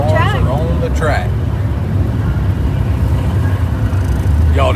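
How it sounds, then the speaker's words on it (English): Late model race cars run on a track at a racing weekend, giving a steady low engine rumble throughout, with short bursts of nearby talk over it. "Y'all hear the late models on the Cars track?"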